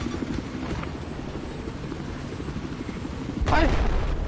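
A helicopter in the video game Battlefield 4 whirs and rumbles steadily under a player talking, with a louder burst of engine or impact noise near the end.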